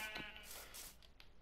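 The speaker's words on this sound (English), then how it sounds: "Let's just gather up these sheep." A sheep in the Minecraft Bedrock video game bleats once in a wavering, nasal cry, close and fairly quiet, with no talking over it.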